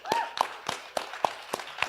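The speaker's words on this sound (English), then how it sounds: "Let's give a round of applause for that." Steady, evenly spaced hand claps, about seven in two seconds, ring out fairly close and moderately quiet at a live talk on storytelling with Jeff Hoffman, like a few people or one person clapping rather than a full crowd.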